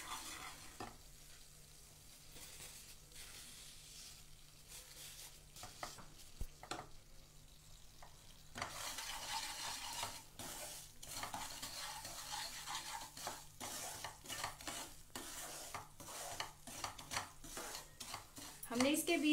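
Chillies roasting in desi ghee over a low flame as a spoon stirs and scrapes the pan, with a soft sizzle and repeated clinking strokes that grow busier halfway through, fairly quiet and close.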